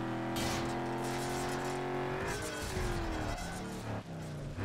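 A car engine in Need for Speed: Underground 2 revs loudly and continuously, its pitch climbing as it accelerates and shifting through gears, with some tire noise near the end and no talking.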